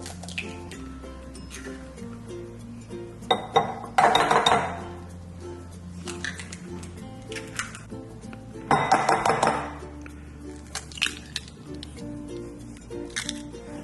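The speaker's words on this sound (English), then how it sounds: "So I'm going to do half a dozen eggs, just break them into a bowl." Six eggs are cracked one after another into a bowl, with two distinct bursts of sharp shell taps and clinks against the rim amid quieter handling noises and brief faint background talk.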